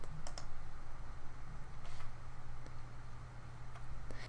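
Computer mouse clicks on an office PC, a few sharp separate clicks over a steady low hum, close and fairly quiet, with no talking.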